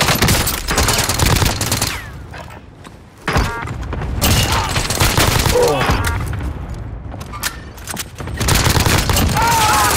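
A light machine gun in Call of Duty: Modern Warfare fires in long, loud automatic bursts with sharp cracks and booms, pausing briefly twice before firing again, alone with no voice over it.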